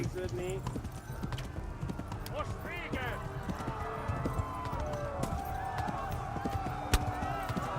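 A horse galloping in the video game Kingdom Come: Deliverance, steady rapid hoofbeats under busy game noise with someone talking over it and a louder thump near the end.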